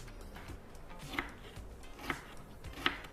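A knife chops onion on a cutting board for salsa, three or four distinct crisp thuds spaced about a second apart over faint background noise, close and quiet, no voices.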